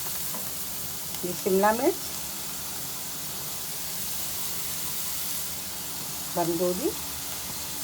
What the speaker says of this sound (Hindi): बस 1 से 2 मिनट तक सारी सब्जियों को हम पका लेंगे